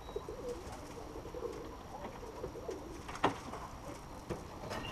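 Pigeons cooing nearby in soft, low, rolling calls, repeated several times over faint background noise, with a short sharp knock partway through.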